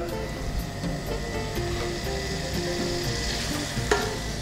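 Onions frying over high heat in a pan for a blue cheese avocado burger, a steady close crackling sizzle with scattered pops and a brief clatter near the end.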